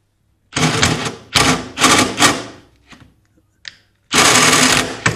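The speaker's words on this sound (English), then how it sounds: "I got this drill there." Power drill driving a 5/16 nut while replacing the water valve on a Viking Professional VCBB363 ice maker, heard as several loud close bursts of whirring, separated by short pauses and a faint clink.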